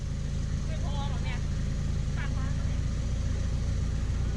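A dump truck's diesel engine rumbles steadily while it backs up and tips rocks onto a slope, with a voice talking faintly over the low, constant drone.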